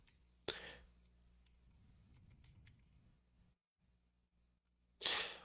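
Quiet keystrokes and mouse clicks on a computer, scattered light taps with a couple of sharper louder clicks, close by over a low background hum.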